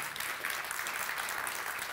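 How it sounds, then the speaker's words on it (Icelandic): A church congregation claps together in a dense, continuous patter that stays even and moderately loud for a couple of seconds, filling the room. "Já, það má alveg klappa fyrir því."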